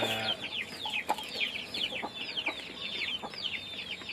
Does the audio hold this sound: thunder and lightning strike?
no